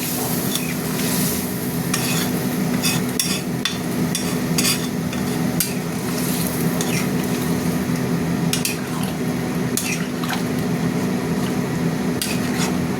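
A spice paste fried until the oil separates, with water added for an elephant-foot yam and prawn curry, sizzling and bubbling steadily while a spoon scrapes and knocks against the pan in irregular clatters.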